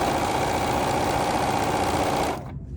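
A sewing machine stitches fabric pieces for a small quilt, running at a steady fast hum with even rapid needle strokes before cutting off near the end.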